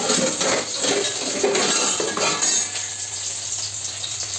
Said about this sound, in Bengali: এই যে আমাদের তেল এখন গরম হয়ে গেছে, পুরো ধোয়া উঠছে। এবার অপুদ দেবে এতে মাছ।